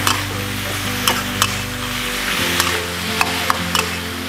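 Pork stir-frying with oyster sauce and mushrooms, a steady close sizzle over a low hum, with sharp clacks of a utensil against the pan every second or so.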